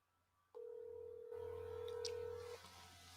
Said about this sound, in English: I guess we can call Carl and see where the fuck he is.